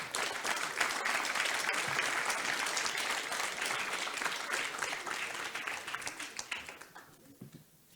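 A conference audience at a panel on additive manufacturing and EU competitiveness claps in sustained, dense applause. The clapping starts strong, then thins into scattered individual claps and dies away near the end.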